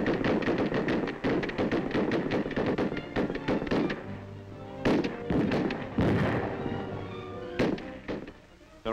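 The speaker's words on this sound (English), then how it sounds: "Intermittent firing." Intermittent rifle fire at the indoor range of the FBI headquarters in Washington, with sharp shots cracking in uneven bursts and single reports, fairly close and loud, with echoing tails between them.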